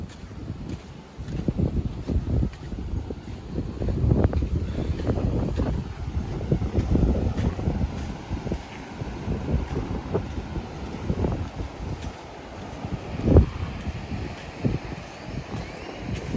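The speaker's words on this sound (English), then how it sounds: "Breezy today." Steady wind buffets the microphone at a beachfront resort in Guanacaste, Costa Rica, a continuous rough rumble with gusts rising and falling and no voices.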